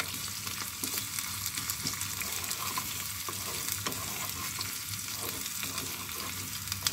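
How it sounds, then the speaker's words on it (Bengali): Spices with ajwain frying in a pan for dal, a steady continuous sizzle with soft stirring, fairly quiet and close, with no voices. "এখন এটাকে ভালো করে ভেজে নিব"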